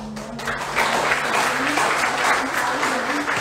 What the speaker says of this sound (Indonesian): mungkin boleh tepuk tangan